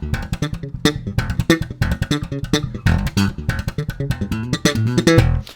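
Slapped and popped electric bass plays a fast break-beat lick in steady sixteenth notes, percussive thumb hits and snapping pops, close and dry with no voice.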